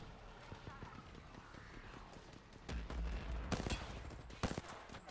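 Gunfire in Apex Legends bursts in sharp loud volleys in the second half, several rapid shots clustered together, following quieter clattering footsteps and a voice speaking.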